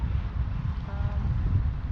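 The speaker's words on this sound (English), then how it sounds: "The wind makes it a little chilly." Wind gusting across the microphone aboard a sailboat on a chilly, breezy outing, a steady low buffeting rumble that stays close and fairly loud for the whole stretch, with no voices over it.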